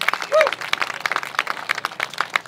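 Crowd applause at a sheriff's campaign event at the Los Angeles Coliseum, a steady patter of many hands clapping with some voices mixed in.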